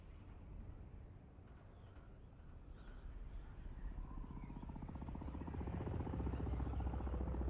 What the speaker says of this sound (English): It's making propeller sounds when... I'm not using the propeller.